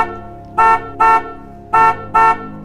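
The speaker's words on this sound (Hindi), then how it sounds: "घर के बाहर गाड़ी का हॉर्न बजाए जा रहे थे" A car horn outside a house sounds four loud, steady blasts in two pairs, each lasting about a quarter second, separated by short gaps.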